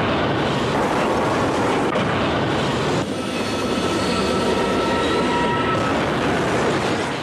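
A train roars past at a level crossing, a loud, continuous rumble and rush of rail noise with a brief shift midway, and no voices over it.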